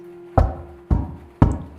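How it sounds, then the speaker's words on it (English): Three heavy, evenly spaced knocks on a wooden door, each a deep booming thud that rattles the frame, close and loud against a low steady hum. "3 long knocks shook the frame of the door"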